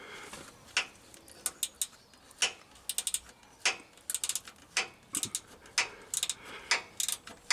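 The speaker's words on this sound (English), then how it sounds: "I've managed to get a ratchet spanner on the top one" A ratchet spanner working a compressor bolt loose on a Land Rover Discovery 3, giving sharp close clicks in short irregular bursts of a few at a time, separated by brief pauses.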